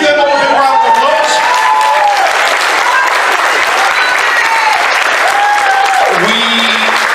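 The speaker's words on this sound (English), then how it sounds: "Give them all a big round of applause." Applause and scattered cheers rise from a convention room crowd at the TFNation opening ceremony, greeting first-time attendees, with whoops and shouts riding over continuous dense clapping.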